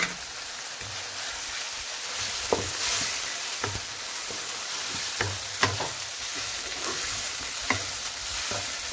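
Ginger garlic paste and four or five cloves sizzle steadily in hot oil for aloo keema while a spoon scrapes and stirs the pan, with sharp clinks at irregular intervals over a continuous frying hiss.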